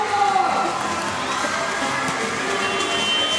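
A packed crowd at a women's basketball game, some standing, some seated, makes a loud, steady roar of cheering with scattered shouting throughout.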